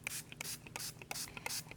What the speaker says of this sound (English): Okay, she's spraying mine here.